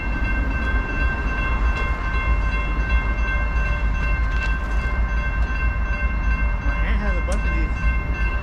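A train rumbles steadily nearby with a sustained tonal hum, and a brief horn-like note sounds near the end.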